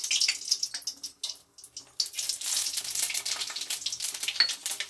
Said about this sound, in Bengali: পুঁই শাকের জন্য আমি শুকনো লঙ্কা ফোড়ন দিলাম